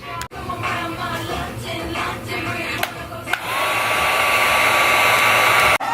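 A heat gun blows steadily while EVA foam is heat-formed for cosplay, a close, continuous airy roar that grows louder and brighter partway through, with a few small clicks and knocks from handling.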